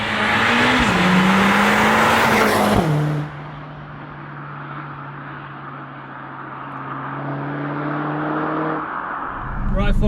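A Mercedes-AMG A45 S engine revs hard then settles into a steady drone as the car drives, with wind noise and a rising hum near the end.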